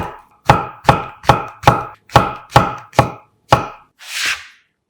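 A knife slices shiitake mushrooms into 0.5 cm slices on a cutting board, eight crisp, evenly spaced chops in a steady rhythm, close and loud, followed by a softer scraping sweep.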